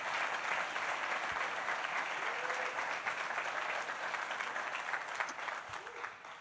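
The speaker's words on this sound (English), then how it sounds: "Let's give him a round of applause." An audience at a Governor Cuomo event marking the opening of Delta's new concourse and gates at LaGuardia gives sustained applause, a dense and even wash of clapping that fades near the end.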